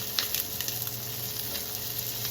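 Butter sizzling and frying in a hot pan just used to sear steak, a steady close crackle with small irregular pops throughout and no talking.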